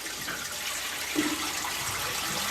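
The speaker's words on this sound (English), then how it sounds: "When you're finished with your live bait tank, you'll need to drain your water off" Water drains steadily from a boat's live bait tank into the sump, a continuous close rushing and gurgling flow with no pauses.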